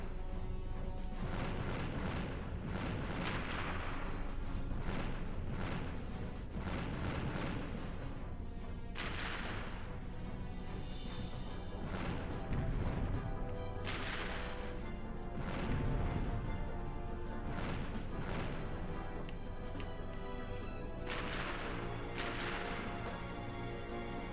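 Rocket fire and explosions from the Ratchet & Clank (2002) video game boom and crash in repeated bursts over a continuous dense game soundtrack, fairly loud throughout.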